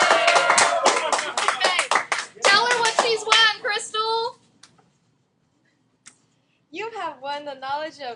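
Students clapping in an algebra classroom, a rapid burst of hand claps that mixes with lively talk and raised voices, then a pause of near silence before more speech returns.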